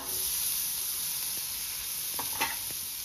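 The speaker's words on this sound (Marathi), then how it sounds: "मी तव्यात थोडंसं बटर टाकलंय, त्या बटर मध्ये मी आता हा कांदा" Sliced onion sizzles in butter on a hot griddle, a steady bright frying hiss that runs the whole time, with a few soft scrapes and taps of stirring near the end and no talking.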